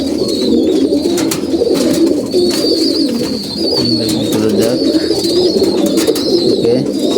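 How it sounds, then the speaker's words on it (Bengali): Several pigeons coo steadily and close by in a loft with young birds, their low throaty calls overlapping continuously throughout with a faint high background hiss. "এখন হলো আমাদের যে কবুতরগুলো আমাদের বাচ্চাই হয়েছে"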